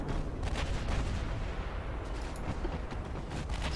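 Heavy naval artillery from battleships in a British 1900-era naval strategy game, a dense continuous rumble of overlapping cannon blasts with sharp repeated reports, loud and steady throughout with no voices.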